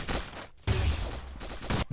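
Dual Hunter Crossbows firing in the game Pixel Gun 3D: three dense bursts of rapid shots, each about half a second long, separated by brief gaps, loud and close with no talking.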